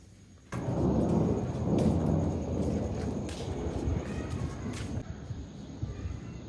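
Steady rain pours with a low rolling rumble of thunder, starting abruptly and continuing as a dense, even hiss and patter at moderate loudness, with no talking.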